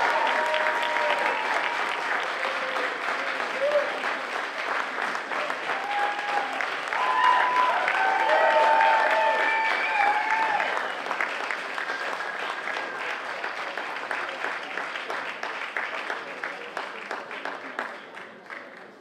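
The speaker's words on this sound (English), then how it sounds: "that applause for my family wasn't long enough" A crowd at a campaign watch party for a candidate applauds the candidate's family, sustained clapping mixed with scattered cheers and voices, rising in the middle and thinning toward the end.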